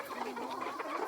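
Siruvidai native hens and chicks cluck softly in a continuous, busy murmur of short calls, fairly close, with no talking.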